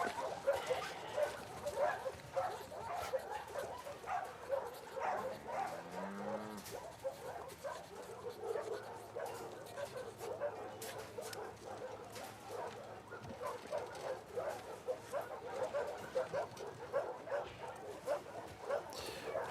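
Dogs in The Last of Us Part 2 video game barking and whimpering, several repeated calls over a steady background with occasional low tones, moderately loud throughout.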